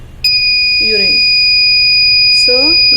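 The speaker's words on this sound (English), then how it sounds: "So now urine is detected, so that's why buzzer is alerting" An ESP32-based health monitoring system's buzzer sounds an alert upon detecting urine, a steady high-pitched electronic tone running continuously after a sudden start, with a person talking nearby underneath.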